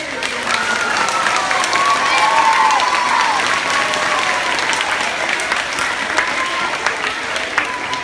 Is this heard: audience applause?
yes